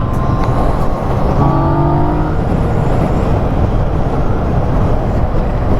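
A Yamaha MT-09 motorcycle engine roars loud and close with a steady, continuous drone, its pitch rising briefly as it accelerates under heavy wind rush.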